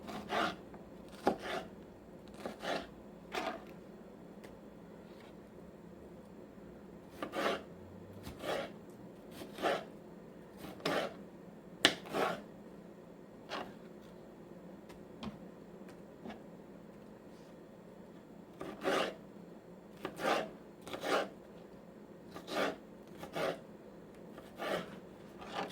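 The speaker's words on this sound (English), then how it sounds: "I'm just going to slice it in little strips" A knife cuts bell peppers into strips for a crock pot, giving a long run of evenly spaced, crisp slicing taps on a cutting board over a steady low room hum.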